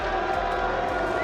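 A large esports arena crowd at an Overwatch semifinal reacts with mixed booing and applause, a dense, sustained roar of voices and clapping filling the hall without pause.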